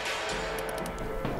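Rifle gunfire in the video game Red Dead Redemption, a few sharp, rapid cracks standing out over a dense, constant background of game ambience and music, moderately loud.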